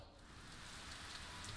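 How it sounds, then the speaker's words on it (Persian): Steady, dense rain on a stormy night in the Batman: Arkham Asylum video game, a continuous even hiss of falling drops with no voices. "بازی از همینجا شروع میشه در یک شب بارانی"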